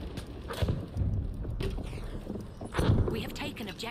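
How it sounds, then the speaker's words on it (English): Galloping horse hoofbeats in the World War I shooter Battlefield 1, a rapid clip-clop mixed with battlefield game noise while someone talks over it. "There's an enemy horse rider."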